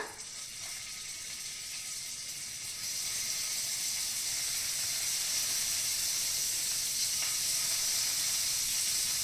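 Paneer fries in oil in a kadai pan, giving a steady, even sizzle and hiss that swells slightly after a few seconds and then carries on unbroken.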